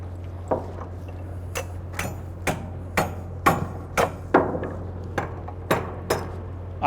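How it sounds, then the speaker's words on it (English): A hammer strikes a Nicopress sleeve crimped onto a wire cable, about a dozen sharp metallic blows at uneven intervals over a steady low hum. "then someone else hammers right there"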